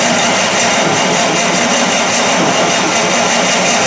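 Buick Roadmaster engine cranking on the starter during a compression test: a loud, steady, dense whirring drone lasting a few seconds without pauses.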